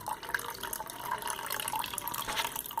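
Water trickles and splashes steadily from a silicone-glued outlet on a homemade aquarium filter packed with perlon and brick shards, a continuous close-up gurgle with small drips and no talking.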